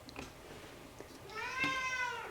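A house cat gives a long, rising meow up close after a couple of soft knocks and rustles in a quiet craft room.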